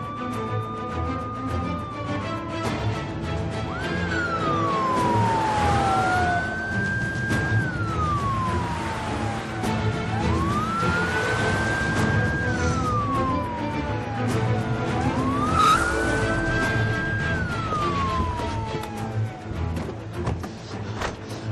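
A police car siren wails in long rising and falling sweeps, repeating steadily and loud over a dense street background in a tense hostage standoff scene.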